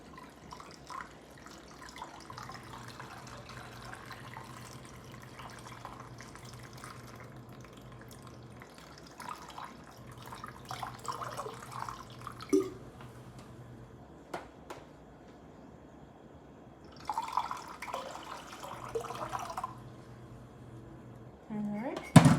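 Warm water runs and splashes from a tap into an enema bag, with faint clinks and handling noises, and a low hum beneath; a brief louder gush near the end.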